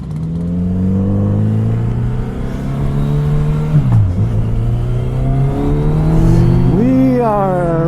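A Kawasaki Z900 RS motorcycle rides out at Zion National Park in Utah, its engine droning steadily, then pitch swings as it shifts and climbs in a rising rev near the end, loud and close throughout.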